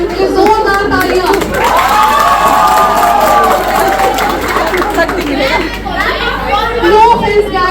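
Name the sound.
audience applause and cheering at a fresher party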